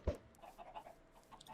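Minecraft chickens clucking softly in a farm pen, a series of short, faint clucks scattered over a low background after one brief louder thump at the start.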